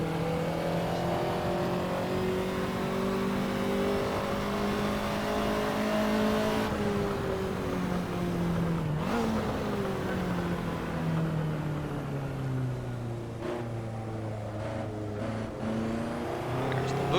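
A Ferrari 288 GTO in the racing game Assetto Corsa accelerates hard, its turbocharged engine climbing through the revs with gear changes, loud and continuous with no talking.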